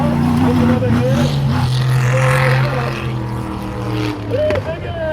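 A prerunner truck races at a motocross stadium track, its engine revving and roaring loudly as it runs up to a big jump, with a commentator's voice over the PA throughout.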